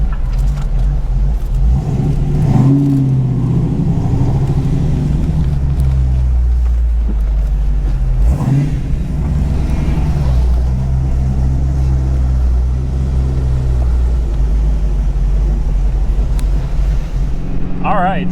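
A rebuilt 1994 Ford Mustang GT cruises around in circles with a continuous low engine rumble heard from inside, plus occasional voices.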